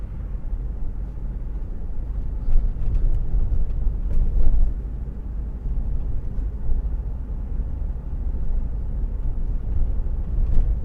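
A car driving slowly through the one-way system in Dorking, a steady low engine and road rumble close by with faint passing noises and no talk.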